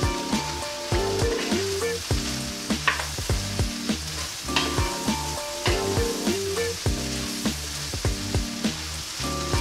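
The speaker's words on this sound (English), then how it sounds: "And we're just gonna stir that right together." Seasoned vegetables with garlic salt stirred in a hot pan, with loud continuous frying sizzle and regular scraping strokes close by.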